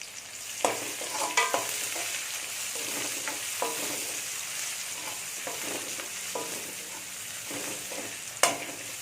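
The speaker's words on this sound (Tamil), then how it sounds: "வெங்காயம் நல்லா வதங்கிடுச்சு." Onions sauté in oil in a pan for a Tamil keerai kadaiyal, a soft steady sizzle under the scrape and clink of a spoon stirring at irregular moments, close and fairly quiet, with no voices.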